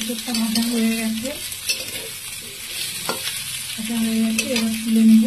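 Pieces of young jackfruit frying in oil in a wok, a continuous sizzle with scraping stir strokes and a couple of short tonal squeaks from the pan, close and fairly loud.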